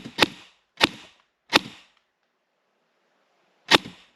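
A Cyma CM041G Platinum MP5 airsoft gun fires four sharp, close shots: three in a quick even rhythm, then a pause and one more.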